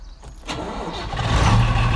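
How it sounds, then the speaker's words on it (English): A Landini Legend tractor with a faulty starter motor cranks and fires up, a rough grinding crank building into a steady, loud engine roar that swells toward the end. "So this is my Landini Legend, and you can hear, obviously I have a starter motor problem."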